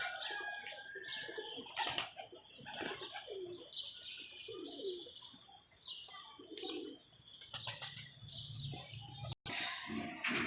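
Several young pigeons coo in low, throaty bursts alongside chirping birds and occasional wing flaps, a busy outdoor flock with no talking.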